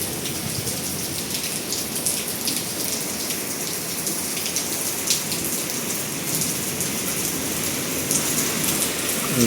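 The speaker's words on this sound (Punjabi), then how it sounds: "ਓ ਮਾਈ ਗੋਡ ਬਾਰਿਸ਼ ਤੇਜ਼ ਹੋ ਗਈ" A downpour of heavy night rain in Rajasthan hisses and patters without pause, thick and close, swelling slightly louder toward the end; no voices.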